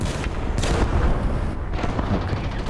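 Gunfire and cannon blasts in the tank battle game War Thunder, with heavy booming shots and rumbling explosions landing in quick succession at close range, loud and dense throughout.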